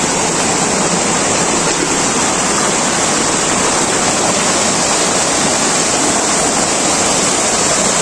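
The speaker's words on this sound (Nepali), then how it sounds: "भालु खोलाबाट यति बेला पानी एकदमै राम्रो कञ्चन सङ्लो पानी बगिरहेको छ।" Water rushes steadily at the source of the Bhalu Khola stream, a loud, continuous broadband roar that holds without a break from start to finish.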